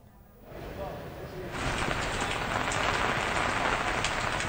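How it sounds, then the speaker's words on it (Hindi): Heavy rain pours down steadily during a monsoon downpour in Madhya Pradesh, a dense hiss that jumps louder partway through and then holds as continuous close rainfall with no break. "रात भर से तेज बारिश हो रही है"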